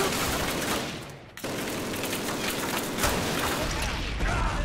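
Sustained MG42 machine gun fire in the Call of Duty game, a dense, loud rattle of rapid shots broken by a brief lull before resuming, with voices talking over the gunfire.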